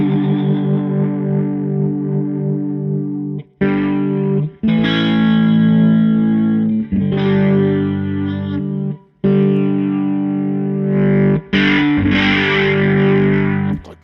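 Electric guitar through a Line 6 HX One pedal set for drive, with chorus and echo coloring it, playing loud distorted chords and phrases with several brief gaps between them.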